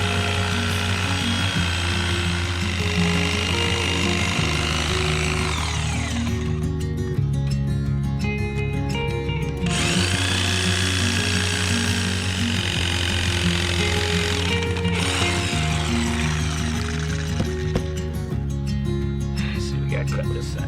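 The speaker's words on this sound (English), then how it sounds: "The all-purpose, all-handy reciprocating saw, and I put a landscaping blade on it" A reciprocating saw fitted with a landscaping blade cutting into a tree stump, a loud buzzing, rasping drone that surges and changes pitch in repeated bursts, with a person talking over it.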